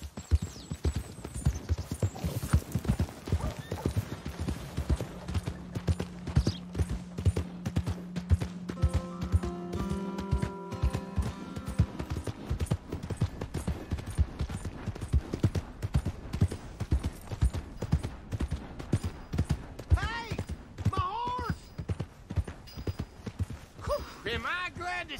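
Steady clip-clop of horse hooves trotting throughout in Red Dead Redemption 2, with a voice talking over parts of it and a brief musical tone.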